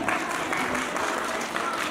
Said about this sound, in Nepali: तसर्थ सम्पूर्णले एकचोटि जोरदार ताली बजाइदिनु होला।